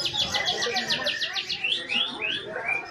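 A white-rumped shama, or murai batu, sings at a bird contest, loud and close with rapid repeated whistled notes followed by sweeping rising phrases, over a busy background of other birds.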